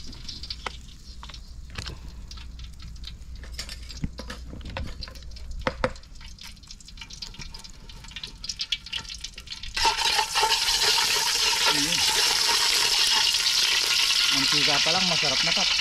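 Oil poured into a hot pan for frying, a soft hiss building into a loud, steady sizzle that fills the second half, with faint kitchen clatter before it.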